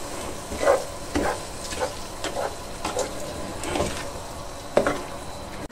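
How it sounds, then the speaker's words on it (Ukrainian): Food being stirred and mixed in a pan, with repeated scraping strokes of a spoon in an uneven rhythm over a faint background sizzle, close by. "і все добренько перемішуємо"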